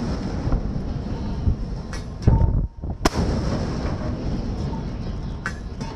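A turret fires in the RimWorld video game, a heavy booming shot followed by a sharp crack, each burst abrupt and loud against a steady background rumble, with no talking.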